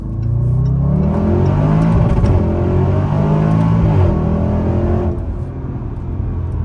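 A loud supercharged SUV accelerates onto the highway, its engine revving up through rising gear pulls with a strong, close roar that eases off near the end, with no voices.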